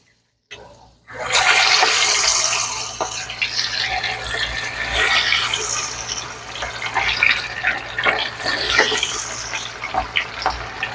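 Chicken legs with a couple of curry leaves dropped into hot oil, setting off a loud, steady broadband sizzle that begins abruptly after a brief silence and carries on with bubbling crackle throughout.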